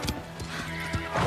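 Horse hooves clip-clop in quick uneven beats alongside a sharp whinny in a French animated riding series, the horse close and loud with brief voices over it.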